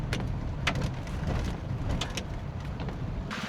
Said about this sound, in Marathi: पुण्यामध्ये मुसळधार पाऊस मागच्या आठवड्यापासून जो चालू झालेला आहे तो आज सुद्धा कंटिन्यू आहे